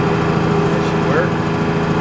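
Lexion 570 combine harvester unloading winter rye grain with its auger, a loud, steady engine drone with a continuous mechanical hum close by, voices talking over it.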